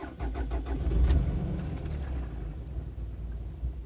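A rough-running Toyota RAV4 engine cranks and catches, then runs with a low, uneven rumble close by, loud and steady with no talking.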